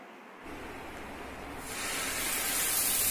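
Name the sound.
oil sizzling on hot dosa pan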